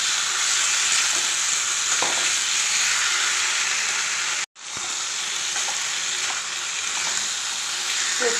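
Soybean curry being sautéed in a pan makes a loud, even sizzle and hiss with faint stirring taps, broken by a brief full silence midway before the frying resumes.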